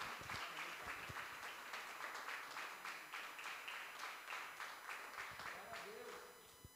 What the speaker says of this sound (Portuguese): Irmãos, vamos aplaudir ao Senhor Jesus